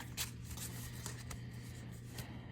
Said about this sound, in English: I am a side shuffler.